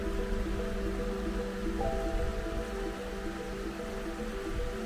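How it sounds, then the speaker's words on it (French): A mountain stream flowing along a two-day trekking route in the Dévoluy mountains, a steady broadband rush of water that holds level throughout, close by and continuous with no voices over it. "On traverse le ruisseau."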